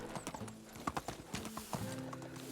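Horse hooves clop in a quick galloping rhythm in the Medieval Dynasty video game, a close but quiet run of beats over a faint background.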